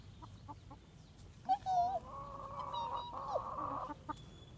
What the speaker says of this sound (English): What's that chicken's name?